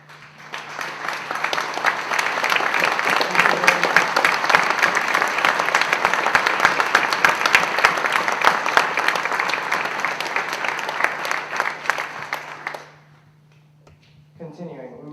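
A room full of people applauds veterans standing at a community event, loud sustained clapping lasting about thirteen seconds before stopping abruptly, with a brief voice afterward.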